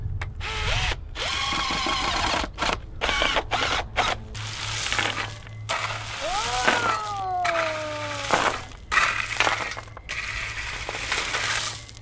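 A power drill drives 2.5-inch PowerPro screws into a wooden gate on a deer and rabbit proof fence, sounding as loud, close bursts of whirring motor with rising and falling pitch, separated by short pauses.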